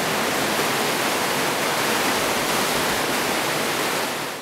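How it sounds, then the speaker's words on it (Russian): Rushing river rapids roar in a dense, steady wash of white water, loud and continuous with no voices, as an eight-person rafting crew approaches the rapids of a fast-flowing river. "Уже через пару минут команде из 8 человек предстоит встретиться с порогами этой стремительной реки."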